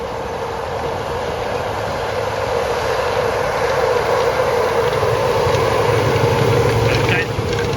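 A farm machine working through maize ground with front discs fitted, a steady loud engine drone and continuous rumbling churn filling the whole stretch without a break.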